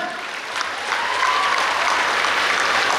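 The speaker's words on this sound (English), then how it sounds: "A round of applause, ladies and gentlemen" Sustained applause from a crowd at a medical college graduation ceremony, a dense, even wash of many hands clapping at once that swells slightly and holds steady with no talking over it.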